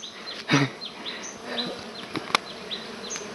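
Dwarf honey bees swarm around a freshly harvested nest, a close, continuous buzzing drone with individual bees swooping past, plus a few sharp knocks and rustles.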